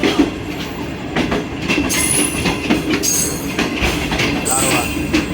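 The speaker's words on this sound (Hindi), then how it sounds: "वो एक ओवरटेकिंग आई है, आई थिंक ये सियालकोट एक्सप्रेस होगी" A passenger train, taken to be the Sialkot Express, overtakes a rail car near Shahdara on a Pakistani line with a loud steady rumble. Wheel squeals, rattling and clickety-clack run throughout at close range.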